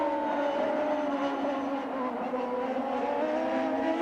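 A CART Indy race car driven by Al Unser Jr. rounds the final turn at Mid-Ohio, its engine a sustained, slightly wavering tonal whine that carries steadily at moderate distance.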